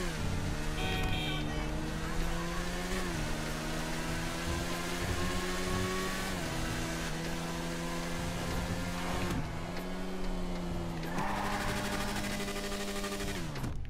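A drag motorcycle engine in a video game revs hard and steadily, its pitch climbing and dropping back at each gear shift, loud and continuous with no talking.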